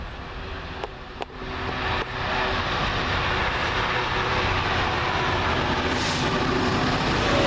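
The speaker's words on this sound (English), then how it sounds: "freight train from Southampton Maritime through to Crewe Basford Hall" A freight train from Southampton Maritime to Crewe Basford Hall rumbles past close by at Banbury, a loud continuous roar with faint clanking, building and holding steady throughout.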